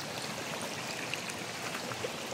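Stream water runs over stones among gold-tinted sand and rocks, a steady broadband rushing and gurgle, fairly close and continuous with no voices over it.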